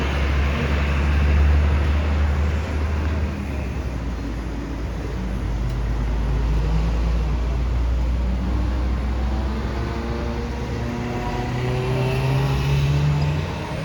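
Cars drive on a toll road in West Bogor near Sentul, producing a continuous, loud traffic roar with engines droning and vehicles passing, without pause or speech.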